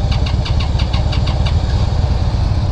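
A 2016 Indian Scout motorcycle engine catches and settles into a rapid, throbbing idle with a rhythmic knocking pulse, close and fairly loud.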